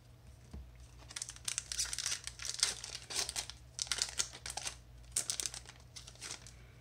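Foil wrappers of Aether Revolt Magic booster packs crinkle and tear in repeated close bursts, steady rustling handling with no talking.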